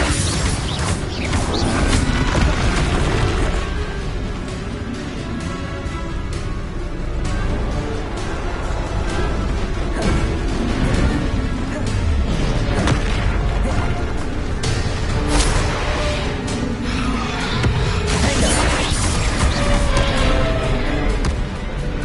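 Confringo explosive spell blasts in the Hogwarts Legacy video game: repeated booming impacts and crashing bursts over busy game effects and music, loud and steady throughout.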